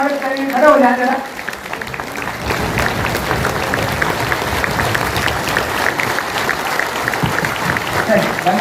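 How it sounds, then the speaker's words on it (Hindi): A hall audience applauds while standing to welcome a party's national president at a Dr. B.R. Ambedkar birth anniversary celebration, dense steady clapping across the whole stretch after a brief voice at the start. "जोरदार तालियों से खड़े होकर के उनका स्वागत करेंगे।"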